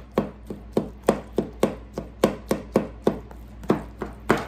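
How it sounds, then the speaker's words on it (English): Cooked cauliflower being chopped on a cutting board, about sixteen evenly spaced knife strikes in a steady brisk rhythm, close and distinct over a low background hum. "I just chop it up like that"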